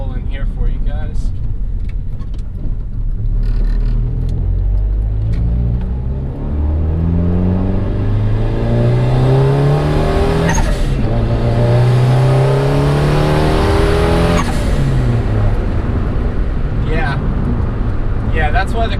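A turbocharged Honda Accord pulls hard through the gears, its engine climbing in pitch repeatedly with brief drops at each shift, loud and close from inside the cabin, while someone talks over it.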